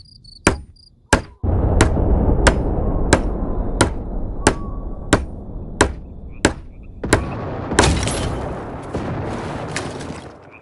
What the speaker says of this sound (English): Use the hammer in your loadout to finish constructing it.